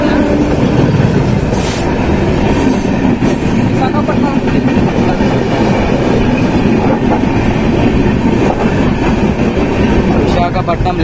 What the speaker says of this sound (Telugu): WAP 7 locomotive.